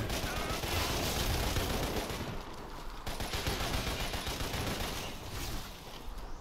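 Dense, continuous automatic gunfire and explosions from the video game Lost Planet, loud and sustained throughout with only brief dips in intensity.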